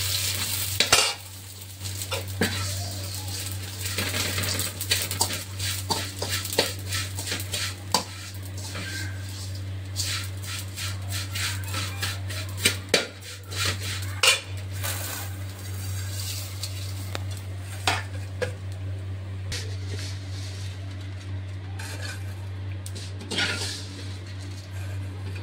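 Vermicelli frying in a pan while being stirred, with continuous close sizzling, frequent scraping and clinking of the spoon against the pan, and a steady low hum underneath.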